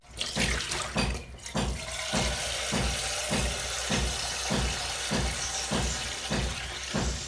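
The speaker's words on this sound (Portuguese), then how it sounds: "Para o arroz, eu vou colocar água aqui." Tap water pours steadily into a pot for cooking rice, a continuous splashing rush with regular rhythmic pulses, close and fairly loud, with no talking.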